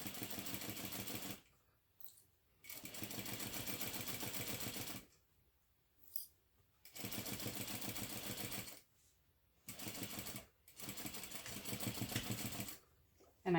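Sewing machine stitching a seam on a zippered ID case, running in short bursts of a few seconds separated by quiet pauses, with quick reverse back stitches at starts and stops, fairly faint.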